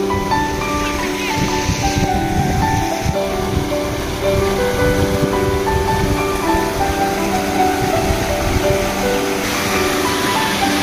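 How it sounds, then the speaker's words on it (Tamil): Rain-fed water runs under a small garden bridge and spills over a natural falls in a home garden, a steady, dense rush that carries on without a break throughout. "இங்கே பாருங்கள் நம்ம தோட்டத்தில் இயற்கையான ஃபால்ஸு."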